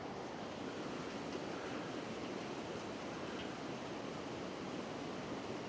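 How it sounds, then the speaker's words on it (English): A small creek runs beside a mountain campsite in Colorado, giving a steady, even rush of flowing water with no breaks. "Nice little creek running there."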